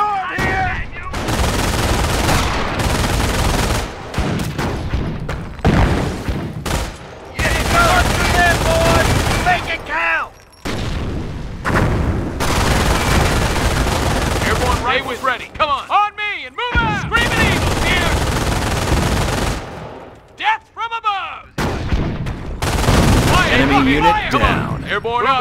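Sustained battlefield gunfire from Company of Heroes during the Normandy-campaign fight at Carentan: dense rifle and machine-gun bursts with short pauses, soldiers shouting over the shooting throughout.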